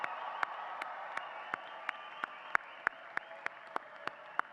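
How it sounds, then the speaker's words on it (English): A commencement crowd at a pharmacy college ceremony claps for the graduates, steady dense applause with sharp periodic loud claps or thumps standing out at a regular rhythm, heard from some distance. "please give us a thunderous round of applause, yell, scream, let's celebrate them"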